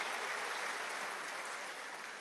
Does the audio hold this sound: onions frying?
no